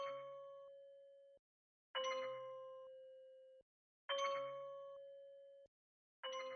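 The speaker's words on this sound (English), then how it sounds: "The next sound I added was this Kalimba one shot." A kalimba one-shot sample, dirtied with lo-fi lossy effects and panned right, plucks four times at an even pace. Each note rings out bright and bell-like, then cuts off cleanly into silence, quiet and alone.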